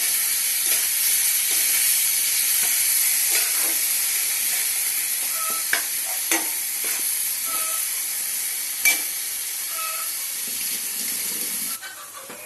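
Fish curry masala sizzles in hot oil as a steady, loud hiss that runs unbroken with a few small pops, then drops away abruptly at the end, with no talking.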